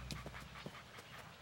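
A dog pants in quick, rhythmic breaths with faint whimpering, quiet and fairly close, over steady background noise.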